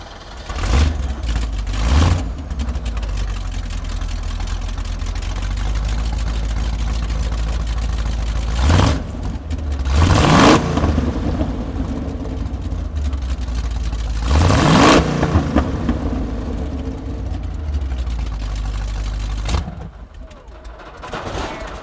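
A Ford Pinto wagon engine runs loud and close at a rough idle, with several sharp throttle blips rising and falling over a steady drone before it settles lower near the end. Voices talk over it at times.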